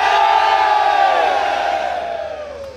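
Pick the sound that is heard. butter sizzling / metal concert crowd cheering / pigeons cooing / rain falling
metal concert crowd cheering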